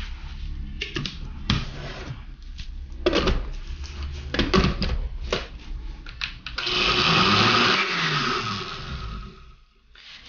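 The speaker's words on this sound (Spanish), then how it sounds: "Y a licuar." An electric blender whirs in short bursts, then runs steadily, mixing lulada, a Cali drink of lulo fruit, lime and sugar. The motor is loud and close, with pauses and clatter between pulses, and no talking.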